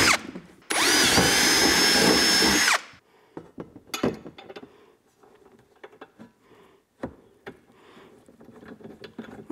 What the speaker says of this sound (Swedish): borrar hål rakt igenom här.